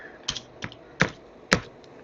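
Several distinct keystrokes on a computer keyboard, about four separate clicks spaced unevenly as a Linux service-restart command is typed at a workstation, close and alone with no talk.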